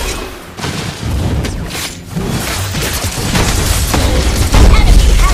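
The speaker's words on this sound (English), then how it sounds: "You destroy the turret." Booming explosion and crashing debris as a turret is destroyed in the Mobile Legends mobile game, loud and dense over several seconds, swelling toward the end.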